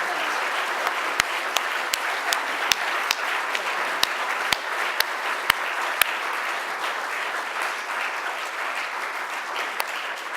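A lecture audience applauds to thank a speaker, with steady, sustained clapping from a crowd in a hall and a few sharper individual claps standing out, and no talking.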